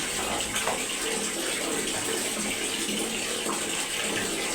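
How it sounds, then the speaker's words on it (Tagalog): Steady splashing and running water during a bath with papaya soap, continuous and fairly close with no talking. "Pasensyahan nyo na, maligo si Delmar ganito."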